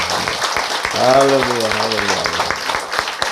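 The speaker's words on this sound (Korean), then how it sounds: "하나님께 영광의 박수 한번 드려야 돼요" A church congregation applauds during a Sunday sermon, a steady wash of clapping that swells around the middle and carries on beneath a voice calling out loudly over it.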